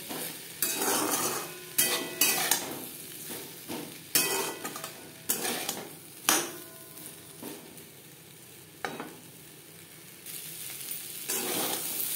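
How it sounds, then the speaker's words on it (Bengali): Gobindobhog rice and raw papaya being stirred in a hot pan over low to medium flame, with a steady sizzle broken by repeated scraping strokes of a spatula against the metal, close and fairly loud, with no talking. "চালের সাথে পেঁপে বেশ ভালো করে মিক্সড করে দেব।"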